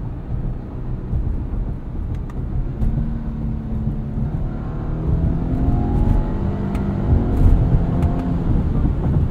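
A 2022 Subaru Outback Wilderness with a CVT drones steadily through simulated manual-mode shifts, engine pitch stepping up and settling in a continuous cabin hum that grows slightly louder toward the end.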